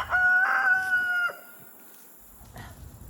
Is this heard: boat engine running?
no